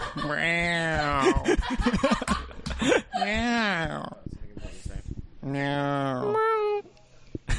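A person imitates a cat with drawn-out, wavering meows, several in a row with short pauses, mixed with bits of snickering laughter.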